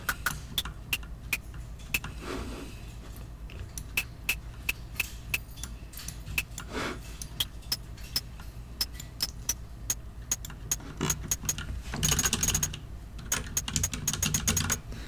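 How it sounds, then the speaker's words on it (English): Synthesized hi-hat in Picotron with added noise, a steady stream of crisp, short metallic ticks in a fast regular rhythm over a low hum, with a brief brighter noisy burst near the end. "it helps to just add some noise in there because, yeah, it makes it sound more like a hi-hat."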